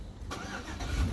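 The engine of a 2003 Chevy Tahoe cranks and starts close by, then settles into a rough, rumbling idle within about a second.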